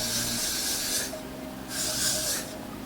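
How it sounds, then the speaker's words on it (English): Hairspray is sprayed onto a wig in two short, close hissing bursts, each about a second long, with a brief pause between them. "get a little bit of hairspray"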